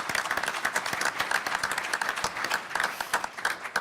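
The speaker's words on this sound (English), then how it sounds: "I want to give a big round of applause to all the presenters" A round of applause for presenters at a higher-education leadership event, many hands clapping at once, steady and moderately distant, with no voices on top.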